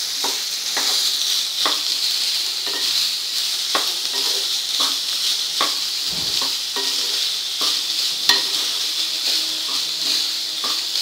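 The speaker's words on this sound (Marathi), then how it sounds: "कांदा पण छान तेलात मिक्स करून घ्यायचा आहे." Chopped onion sizzles in hot oil in a pan while being stirred, a steady close hiss with scattered scraping ticks from the spoon, loud and continuous throughout.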